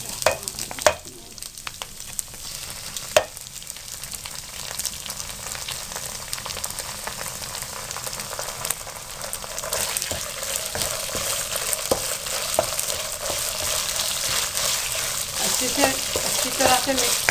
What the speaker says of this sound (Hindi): अच्छी तरह से मिक्स करें। चंद सेकंड के लिए इसको फ्राई करें